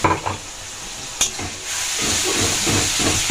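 Onions frying in oil in a pan, a loud close hiss and sizzle that swells after a brief stir and a clink, continuing steadily, with no talk.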